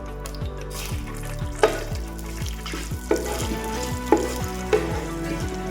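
Two teaspoons of fennel seeds frying in a pan with curry leaves for chicken curry, a steady sizzle broken by a few sharp clinks of a spoon stirring against the pan.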